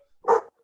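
One short, sharp dog bark nearby, loud and isolated with silence around it.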